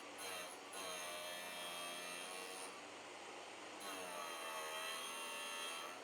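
Steady, harsh grinding as a drill bit is pressed against a spinning abrasive wheel on a Vevor drill sharpening machine, continuous with slight changes in pitch as contact shifts.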